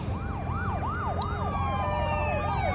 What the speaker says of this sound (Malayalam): എന്താണ് സപ്പറത്തോടെ പോലീസ് വണ്ടിയൊക്കെ പോകുന്നത്?